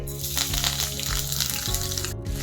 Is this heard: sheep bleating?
no